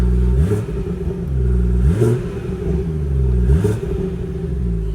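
A BMW 340i engine revs three times in quick succession on a damp night, each rise and fall sharp and loud over a steady, close rumble.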